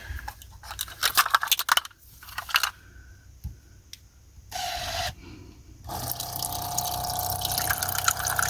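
Water pours into a pot of rice in a van kitchen, a loud running, splashing stream that starts and stops in bursts before settling into a steady pour.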